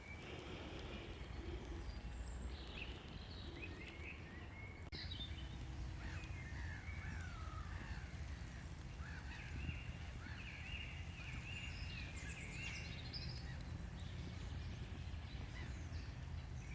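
Wild birds calling outdoors near a campfire where food is cooked over the flames, with repeated caws and chirps rising over a constant low crackle and hiss, fairly faint and without talk.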